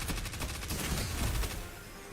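Dense bursts of rapid gunfire from a Destiny 2 firefight, loud and continuous with no pause, overlapping shots blurring into a sustained rattle.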